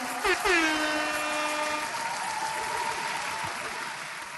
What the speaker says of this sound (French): Merci pour les applaudissements, Phil.